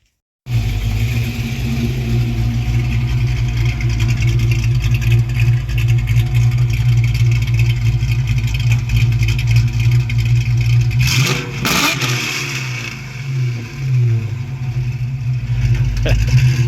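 A Trooper car fitted with Violator pipes and a Mac Pro exhaust chamber idles loud and close with a deep steady rumble, then revs sharply once before settling back into a throbbing idle.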